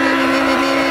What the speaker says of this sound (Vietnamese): Động cơ bạn đó nghe kêu kỳ quá